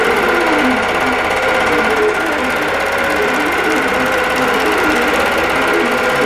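A longarm quilting machine stitches the border of a Moulin Rouge wholecloth quilt, giving a constant, loud, fast mechanical chatter and whir with a slight rhythmic pulse throughout.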